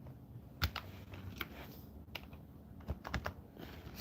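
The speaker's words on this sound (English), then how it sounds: "I'm using my keyboard like a boomer." Computer keyboard keys clack in irregular bursts, with scattered taps and short quick runs at close range in a quiet room.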